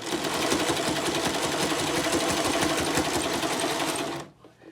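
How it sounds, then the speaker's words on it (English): A sewing machine zigzag stitching fold-over elastic onto a fabric mask, a fast, dense mechanical whir running steadily up close for about four seconds before stopping abruptly. "pull the elastic and hold it really tight and then sew up to that point"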